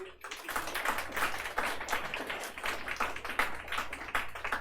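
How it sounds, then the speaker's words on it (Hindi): Students in a physics lecture classroom clap together, a fairly quiet patter of many hands with uneven rhythm, continuing steadily for several seconds without talk. "जोरदार ताली बजाइए"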